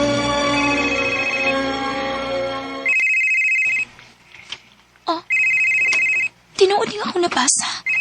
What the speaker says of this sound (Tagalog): Si Anton ang nanawag. Hello?